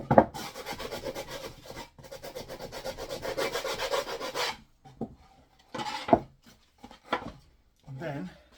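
Wooden corners and edges of a swift nest box are rasped or sanded smooth in quick rhythmic scraping strokes for several seconds, followed by a few short, sporadic scrapes and knocks.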